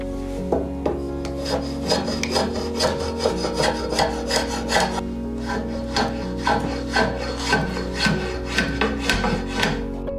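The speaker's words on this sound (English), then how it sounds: "But first, I have to sharpen all my tools." A steel draw knife is sharpened with steady rhythmic rubbing strokes, about two per second, close and moderately loud with a dry rasping quality, with no talk over it.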